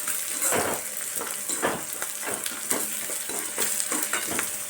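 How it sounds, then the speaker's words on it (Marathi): Onions fry and are stirred in a pan while making chivda from leftover chapati pieces: a close, continuous sizzle with rhythmic scraping strokes of a spoon, no voices. "तर आता आपला कांदा भाजत आलेला आहे"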